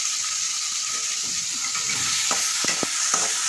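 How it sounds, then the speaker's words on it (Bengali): Chopped onion frying in mustard oil, a steady bright sizzle with a few utensil knocks against the pan toward the end. "এবার পেঁয়াজ কুচিয়ে দিয়ে দেবো।"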